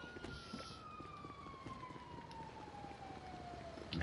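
A police siren wails in the distance in the Grand Theft Auto V role-play game, a single faint, slowly falling tone that drifts over low background noise with no talking.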